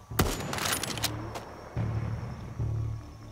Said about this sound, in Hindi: स्नाइपर बहुत जोर से आवाज करती है